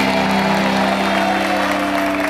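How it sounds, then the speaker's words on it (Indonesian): Studio audience applause on the TV game show Family 100, a dense, continuous clapping wash with steady music or tonal hum running underneath for the whole stretch. "tepuk tangan untuk mereka berdua luar biasa"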